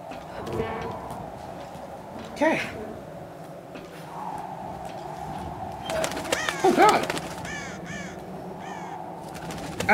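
Birds in the Tomb Raider video game calling and flapping in sporadic bursts over a rustling ambient bed, with a crow-like caw prominent and clustered cries near the end, talk faintly present.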